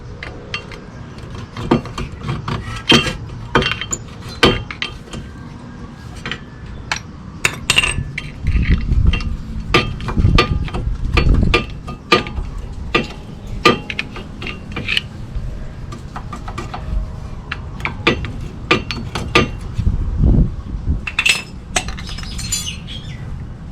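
Front brake pads being removed from a 2005 Toyota Corolla LE, with a dense run of sharp metallic clinks, taps and scrapes of tools and parts, close and continuous throughout, with no talking.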